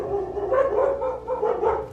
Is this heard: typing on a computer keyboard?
no